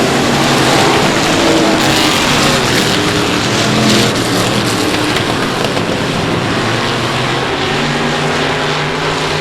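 Street stock race cars thundering toward the finish at South Texas Speedway, a dense sustained engine roar that swells and holds for the whole stretch with no voices.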